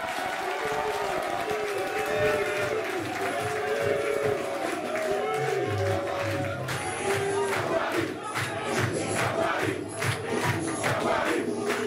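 A large rally crowd cheers and calls out loudly for Kamala Atia, with sustained shouting, chanting and bursts of applause throughout, all loud and close.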